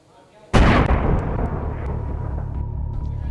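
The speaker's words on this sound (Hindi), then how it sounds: "एक भयानक धमाका और हरियाली के बीच बारूद का सफेद गुबार आसमान की ओर उठने लगा।" A car loaded with 40 to 50 kilograms of explosives detonates in Pulwama, Jammu and Kashmir, a single sudden loud blast followed by a long rumbling roar that keeps sounding under a voice.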